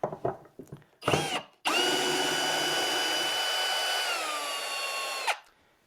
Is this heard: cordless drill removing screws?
yes